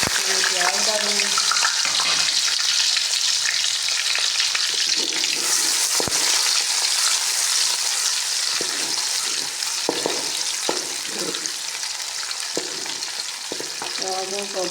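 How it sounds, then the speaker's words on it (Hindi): Onions fry in about a cup of hot ghee for a restaurant-style chicken bhuna masala, giving a steady close sizzle broken by occasional stirring clinks, with a faint voice near the start. "अब ये जी मेरा घी मैंने 1 कप रख दिया है गर्म। प्याज डालूँगी"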